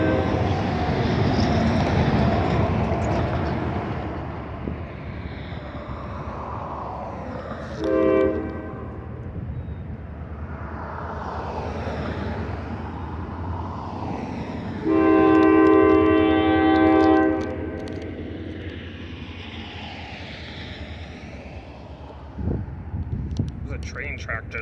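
A train rumbles past at a moderate distance, sounding its horn twice, a short blast then a longer one, while people chat nearby.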